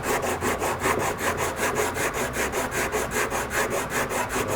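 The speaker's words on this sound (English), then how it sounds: "So on the deadbolt hole up here, I'm going to need to sand that a little bit." A wooden door is hand sanded around its deadbolt hole with a steady, rhythmic back-and-forth scraping, each stroke close and loud, with no talking.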